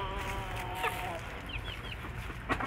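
Clucking and short calls from chickens near a Bangkok crossbred rooster, faint bird sounds scattered over a noisy farmyard background.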